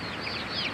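Young kampung super chickens, about two weeks old, clucking close by on a farm, with a short, steady burst of calls and no talking.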